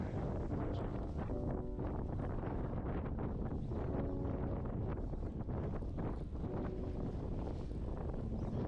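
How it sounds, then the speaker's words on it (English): Strong wind buffets a microphone aboard a deep sea fishing boat on the ocean, a steady loud roar and rumble throughout, with no voices. "Pretty windy day,"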